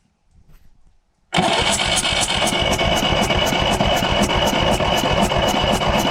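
A 1.5-litre VAZ 2103 car engine, removed from a VAZ 2107, starts abruptly after a short near-silence and settles into a loud, even, close-up rumble with steady rapid firing pulses.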